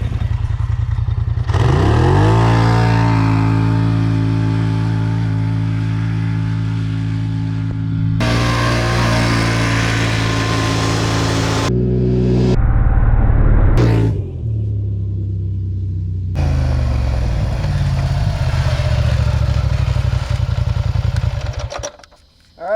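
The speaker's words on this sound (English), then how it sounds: "We're going to do two-wheel drive launch on this thing, see what this one runs in 300 foot" A Can-Am Renegade XMR 1000R or Polaris Scrambler XP 1000S ATV launches in two-wheel drive over a 300-foot run. The loud, close engine revs hard and climbs steeply in pitch through several abrupt gear changes, then cuts off sharply at the end.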